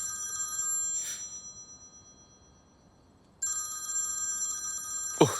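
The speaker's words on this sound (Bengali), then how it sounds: "আলারা ফোন করেছে।" A telephone rings for an incoming call, two bursts of a bright electronic trill separated by a quiet pause, followed by a short clatter at the end.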